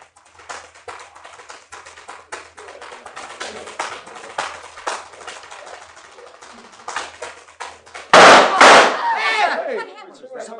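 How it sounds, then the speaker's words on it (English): Staged gunshot effect in an old radio crime drama: rapid tap-dancing clicks patter steadily, then one loud, sharp blast rings out near the end, followed by a short echoing burst. "He's been shot."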